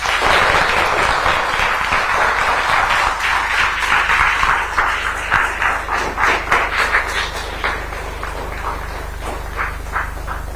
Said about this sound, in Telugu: గట్టిగా చప్పట్లు కొట్టి అందరూ చెప్పండి